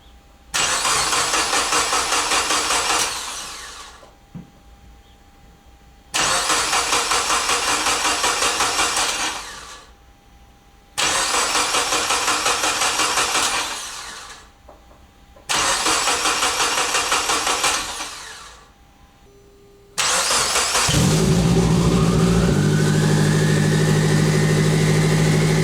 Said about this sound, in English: fire it up and check for leaks.